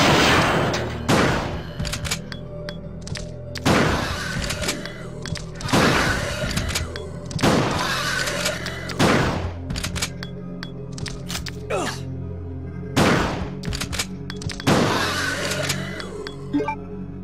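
Gunfire in Resident Evil 2, with a shotgun as the weapon, sounds as about eight loud, booming blasts at fairly regular intervals of roughly two seconds, each with a sharp crack and a short tail.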